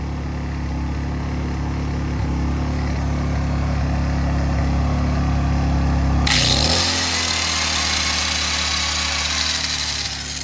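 An AIVOLT 1600W ultralight portable generator engine runs steadily up close, then its tone shifts abruptly to a brighter, higher whine as a load such as a grinder comes on.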